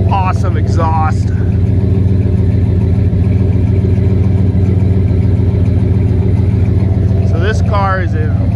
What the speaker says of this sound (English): Awesome exhaust.